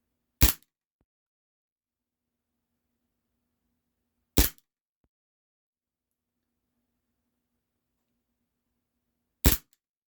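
Three shots from a Cybergun Desert Eagle airsoft pistol with blowback, each a sharp, loud, isolated crack spaced about four to five seconds apart in near silence.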